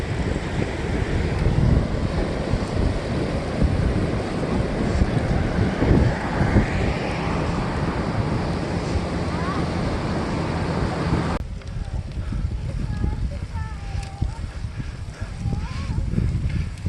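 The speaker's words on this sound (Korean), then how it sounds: "그리고 파도가 아주 멋져요." Waves roll and break along the Yangyang coast near Naksansa, a broad rushing surf heavily buffeted by wind noise on the microphone during a bike ride, then quieting abruptly toward the end.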